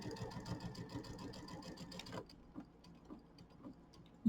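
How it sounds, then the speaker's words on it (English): A sewing machine stitches quilt blocks for a Kimberbell mini quilt, running in a fast, steady mechanical whir for about two seconds. It then stops, leaving faint clicks and near silence. "So we're going to sew this one together."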